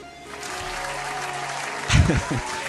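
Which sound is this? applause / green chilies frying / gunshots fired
applause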